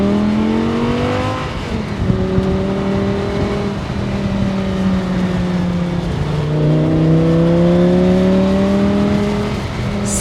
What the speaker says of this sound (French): Le répondant du moteur est phénoménal. C'est un V10.